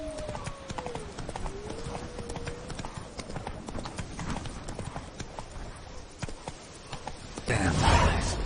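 Hooves of the horse Roach clip-clop steadily in a fast gallop through a video game scene, a continuous rhythmic drumming with a brief whinny-like tone early on and a louder burst of movement near the end.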